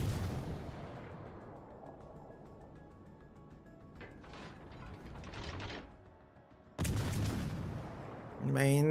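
Main battery guns of a warship fire in the naval game World of Warships Legends, heavy booms landing near the end over a low mechanical drone and background game noise, with a voice talking throughout.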